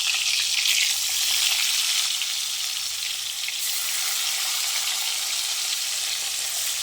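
Marinated katla fish pieces frying in hot oil, giving a loud, steady, close sizzle that stays unbroken throughout with no voices.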